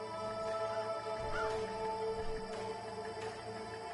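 A crow-like bird gives a couple of harsh caws out in the wild, heard against a steady tonal background with no talking.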